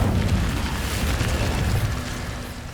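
An Incendio fire spell cast in the Hogwarts Legacy video game gives a loud, sustained roaring whoosh of flame with a booming, explosive body that fades slightly toward the end.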